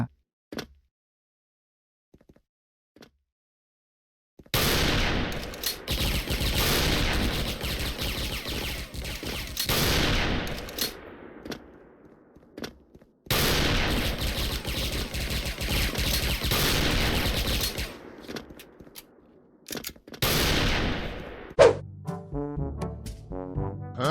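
Gunfire from the Platinum Tac-50 2nd Gen sniper rifle in the shooter game Special Force, loud and close, coming in two long dense stretches of sustained firing with a few isolated shots before them and no voices.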